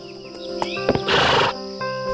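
A horse whinnies loudly and close in a short rising-and-falling neigh, with faint hoof clops and light rustling around it and no voices.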